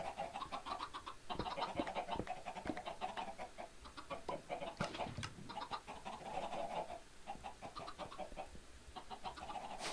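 Chickens cluck continuously in the blocky sandbox game Minecraft, a steady, fairly faint run of short clucks and calls with no talking.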